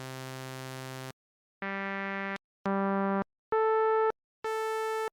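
Individual sustained tones sampled from a Fun Machine organ, each held about a second and separated by brief silences, with steady buzzy timbres that shift in pitch and brightness from note to note.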